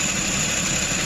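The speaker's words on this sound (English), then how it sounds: "It's misfiring in gear." A 2010 Toyota Corolla S idles in gear on a steep hill with a cylinder misfire, giving a close, steady engine hum with a faint high whine and slightly uneven low pulsing throughout.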